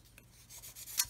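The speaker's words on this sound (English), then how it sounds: "come in with a sanding stick. Again, go all the way down the chassis rails" Sanding stick rubbed along the chassis rails of a 1/48 scale R-11 fuel tanker plastic model kit, a few short quiet scraping strokes close up, with no voices.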